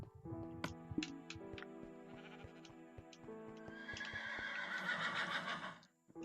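Horse neighing in Minecraft, a long loud whinny building midway and trailing off near the end, layered over game music and scattered hoof clicks, with no talking.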